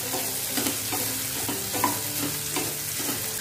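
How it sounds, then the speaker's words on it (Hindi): Spiny gourd (kantola) pieces are stirred and fried in oil for a dry sabzi, giving a steady close sizzle with repeated scraping stir strokes at a regular rhythm, with no voices. "और अच्छे से फ्रेंड्स इसे मिक्स करते जाएंगे, और तकरीबन 1 से 2 मिनट फ्रेंड्स हम इसे तेल में भूनेंगे।"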